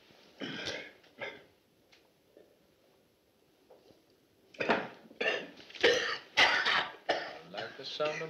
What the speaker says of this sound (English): He's been coughing like that all day.